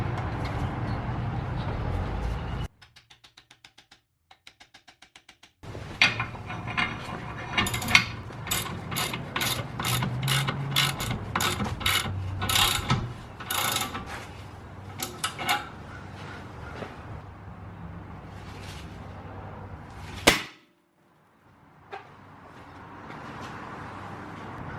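Mechanical ratcheting and metallic clicks from a tie rod end puller being worked on the front suspension of an E39 BMW, a steady run of tool clicks and knocks with a sharp pop near the end, no talk.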